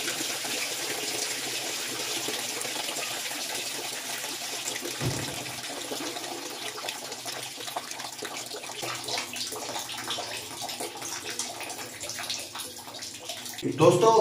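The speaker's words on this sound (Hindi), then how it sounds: "देख रहे हैं कि आस्ता आस्ता जो है कम होता जा रहा है पानी, और सारा निकल जाता है" Hot water runs steadily from a tap fed by an electric geyser line with a hard-water problem, a continuous rushing gush that thins slightly near the end, with a brief knock partway through.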